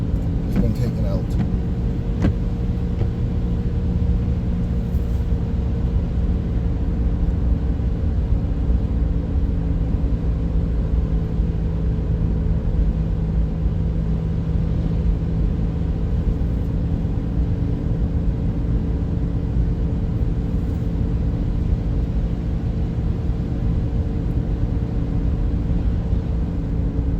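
A car drives steadily along a road, its engine and tyre rumble forming a constant low drone for the whole stretch, close and even with no breaks.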